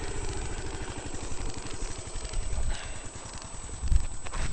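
An old motorcycle engine idles with a slightly rattly, uneven beat, steady and close throughout with a brief louder thump near the end; no talking.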